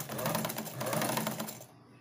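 A sewing machine pleating the back of a dress runs in a fast, steady mechanical rattle up close, then stops abruptly near the end.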